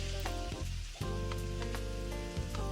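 Marinated shrimp hit hot oil in a wok with a loud, steady crackling sizzle, briefly dipping before it resumes at full intensity.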